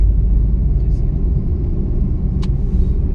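A car engine pulls steadily in second gear during a driving lesson, a continuous low drone that hardly changes in level from the cabin, with faint brief sounds above it.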